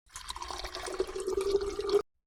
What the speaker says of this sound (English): So I'm gonna pour in it water until it reaches 500 milliliters.